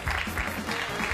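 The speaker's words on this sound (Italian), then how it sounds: "Un applauso." An audience applauds in a cooking competition studio, a steady, fairly loud wash of clapping hands that fills the whole brief moment without any talk.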